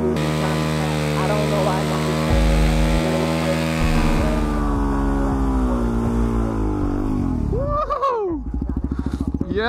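A supermoto motorcycle engine bounces hard off its rev limiter during a burnout, a loud sustained buzzing wail with rising and stuttering pitch, close up. Music plays underneath.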